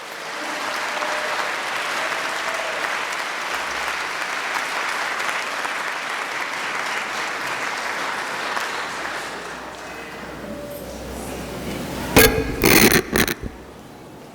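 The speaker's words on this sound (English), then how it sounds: "All of us, please join me in applauding and welcome the Honorable Randall L. Woodfin." Audience at a university summer commencement applauds steadily for about ten seconds before the clapping fades, followed by a few loud, close knocks and scrapes near the end.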